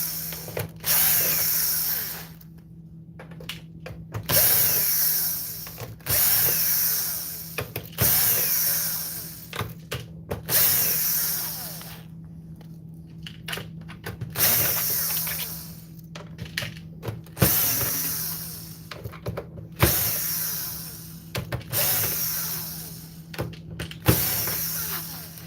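Power driver backing screws out of a PS5 console casing, repeated short whirring bursts separated by brief pauses, close and fairly loud over a steady low electrical hum.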